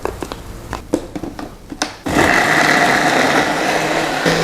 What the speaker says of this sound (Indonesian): Kita blender ulang.